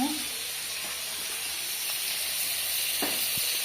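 Steady bright sizzle of vegetables such as beans, potatoes and radish frying in a pan with turmeric and salt, a continuous hiss close up with faint stirring clicks.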